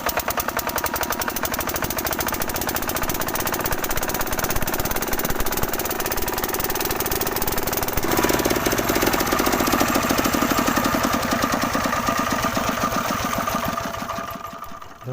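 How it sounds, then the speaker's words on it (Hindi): A diesel engine runs at high speed, a loud, continuous, rapid mechanical clatter close by that holds steady for most of the stretch before easing slightly near the end. "ये इंजन बहुत तेज़ चल रहा है"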